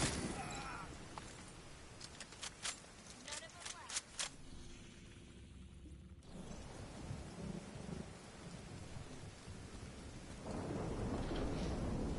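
Steady rain falls throughout the video game The Division 2, with rumbling thunder and sharp bursts in the first few seconds, then a continuous wash of rainfall that grows louder near the end, with a voice talking over it.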